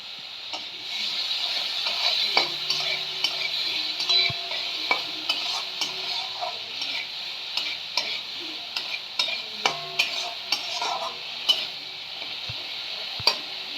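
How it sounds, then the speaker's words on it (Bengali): Shrimp fry over a low flame with salt and turmeric, a soft background sizzle punctuated by frequent sharp clicks and scrapes of a utensil against the pan, close and moderate in level. "এবার আমি চিংড়ি মাছটাকে খুব অল্প করে একটু ভেজে নেব"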